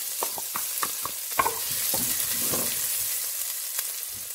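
Garlic and ground cumin sizzling in hot oil for a Punjabi chicken curry, a steady close crackle with several sharp scraping stir strokes early on, no voices.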